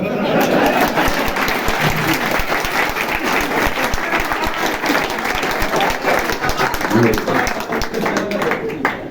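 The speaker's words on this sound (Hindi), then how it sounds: "आपको विश्वास हो तो ताली बजा देना।" An audience at a Hindi kavi sammelan poetry gathering gives loud, dense clapping that carries on for about nine seconds. A voice talks over the applause.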